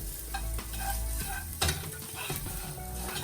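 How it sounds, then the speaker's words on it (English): Pasta being stirred around in a hot pan, with a steady frying sizzle underneath, scraping utensil strokes and a sharp clatter partway through, close and fairly loud throughout. "this pasta, straight in. And what we want to do is kind of stir it around a little bit"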